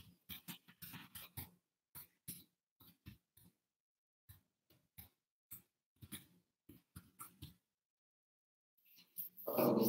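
Lewis the dog growling in short, broken bursts with gaps of quiet between them, close to the listener, rising to a longer, louder rumble at the very end.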